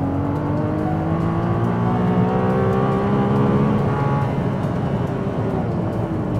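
A Ferrari 296 GTS hybrid sits close by with its engine held high against the rev limiter, giving a loud, continuous, strained tone with bouncing harmonics and no talking.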